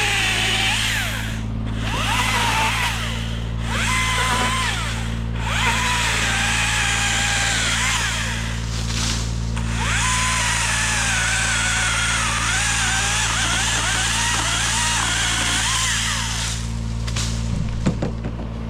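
A Husqvarna 530 IP4 battery pole saw cuts into a tree limb, its high whining motor and chain buzzing continuously with short pauses and pitch shifts as the blade bites, close and loud with no talk.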